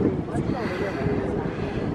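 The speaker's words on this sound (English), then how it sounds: "It's windy." Wind buffets the microphone with a steady, rumbling rush, blustery and close, with no clear voices over it.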